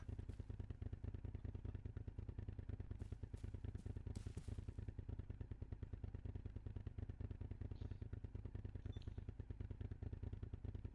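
One of two engines keeps running as a steady, low, rapidly pulsing idle throughout, with brief higher clatters and faint noises layered over the constant rumble during a field training exercise.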